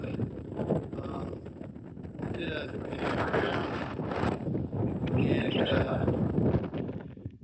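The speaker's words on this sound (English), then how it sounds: "I don't know if you can hear my voice over the wind" Strong wind buffets the microphone on a high viewpoint along the Appalachian Trail, a steady roaring rumble with gusts that swell and ease, while a hiker talks close by.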